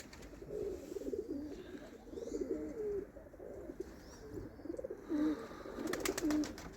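Pigeons coo softly and repeatedly, a low warbling rhythm that sounds fairly close but quiet, with a few faint chirps and a brief sharp rattle near the end.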